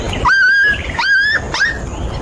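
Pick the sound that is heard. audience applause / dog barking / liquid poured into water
dog barking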